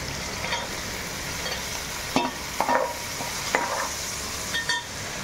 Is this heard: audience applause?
no